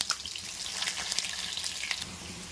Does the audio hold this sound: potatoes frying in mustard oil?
yes